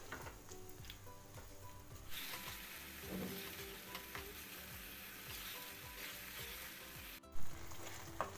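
Chopped tomatoes with salt sizzle and fry steadily in a pan for a Maharashtrian khatta besan, with occasional stirring scrapes and a brief clatter near the end.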